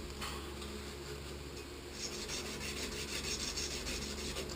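A cloth rubs around a plumbing pipe joint to clean it, a steady close rasping scrub that grows slightly louder and more rhythmic partway through, with no talk.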